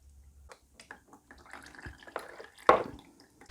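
Engine oil dripping from a KTM 690 Enduro into a drain pan: scattered small drips and light splashes at close range, building to one sharper louder splash near the end, with no talk.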